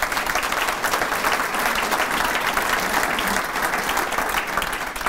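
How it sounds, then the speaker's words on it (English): An audience at a Schneider School of Business talk gives John McHugh a sustained round of applause. The clapping is loud, dense and even, and holds steady for several seconds. "Let's give John another round of applause."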